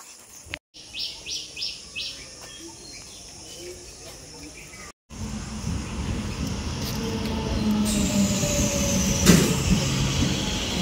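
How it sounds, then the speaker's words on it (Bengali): A train pulling in at a rural station in Bengal, its low rumble building steadily and growing louder over several seconds, mixed with bird chirps and ambient outdoor noise. "ট্রেন চলে এসেছে"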